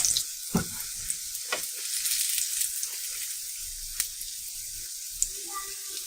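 Syrniki, small cottage-cheese pancakes, fry in a shallow layer of oil with a steady close sizzle, broken by a few brief clicks and taps as they are handled.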